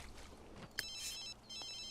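Telephone ringing in The Sims 3, a short bright electronic ring bursting near the middle of the moment, followed by sustained tonal ringing over faint background game sounds.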